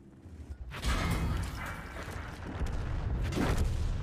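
Heavy booming Panther 8.8 tank cannon fire in a video game on the Lakeville map, a couple of deep blasts with rumbling mechanical noise in between, loud and close with no talking.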